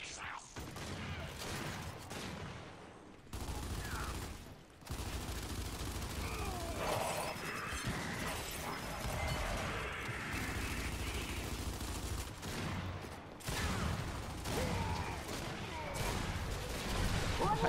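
Gunfire in Gears 5 during a ranked Control match comes as sustained rattling bursts and clattering shots, close and steady across the clip, with short breaks between volleys.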